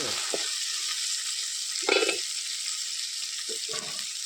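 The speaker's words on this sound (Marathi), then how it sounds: "यो कांदो आता भाजलो ह्याच्यात मी टोमॅटो टाकून घेते" A steady sizzle of onions roasting in a pan as tomatoes go in for a Malvani fish curry cooked over a village wood fire, with a few short stirring scrapes and splashes rising above the constant frying hiss.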